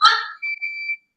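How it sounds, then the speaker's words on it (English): Fire alarm going off indoors: a short burst of sound followed by a thin, high electronic tone that beeps and sustains briefly, then stops. "fire alarm, sorry about that"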